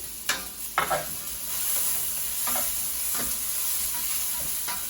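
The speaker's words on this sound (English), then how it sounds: "Onions and garlic. Keep it in high flame." Onions and garlic sautéing in oil over a high flame, with a steady sizzle and several sharp scraping stirs of a spoon in the pan near the start and at intervals, no talking.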